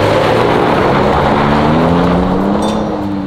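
Off-road vehicles set off up a dirt trail, a loud steady engine roar climbing in pitch as they accelerate, with wind noise over it and no voices.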